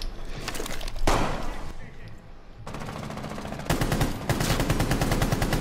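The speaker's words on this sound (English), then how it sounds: "You fucking shot me." Gunfire in a video game, loud rapid automatic bursts in several stretches separated by short pauses, close and heavy, with people talking over it.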